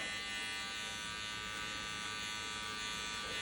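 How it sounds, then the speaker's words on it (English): Electric hair clippers buzz steadily and continuously up close while cutting a skin fade haircut, a constant dense hum with no talking. "Do light clipper strokes, but make sure they're concentrated"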